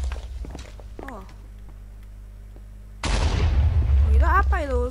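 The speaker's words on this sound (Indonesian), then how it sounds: "Itu apa itu suara ledakan gitu" A sudden loud blast in Minecraft Bedwars hits midway and keeps rumbling, preceded by quieter game sounds and small clicks; a voice speaks briefly near the end.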